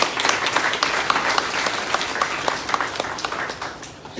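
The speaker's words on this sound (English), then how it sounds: "I'd like all of us to give him a round of applause" An audience applauds, steady dense clapping from many hands that carries on throughout without pause.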